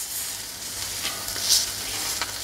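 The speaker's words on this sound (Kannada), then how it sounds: "ಮೊದಲು ಹಂಚಿ ಮೇಲೆ ಹಾಕ್ಕೊಂಡು ಎಣ್ಣೆ ಹಾಕ್ಕೊಂಡು ಸ್ವಲ್ಪ ರೋಸ್ಟ್ ಮಾಡ್ಕೋಬೇಕು" Bangada mackerel roasts in oil on a tawa over gentle heat, giving a close, even sizzling hiss with a few small pops and no talk.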